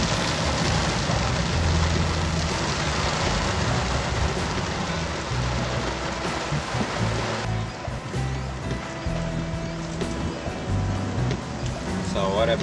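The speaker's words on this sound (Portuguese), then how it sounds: "Muita chuva aqui." Heavy afternoon rain pours down over the city of Caruaru near a river, a dense, loud, steady hiss that fills the whole stretch, with faint voices and traffic murmur underneath.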